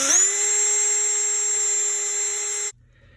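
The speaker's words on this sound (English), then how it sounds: "I'm going to drill this" A power drill bores a hole in the crawl space under a house, giving a steady high-pitched whine that holds for under three seconds before cutting off abruptly, followed by near silence.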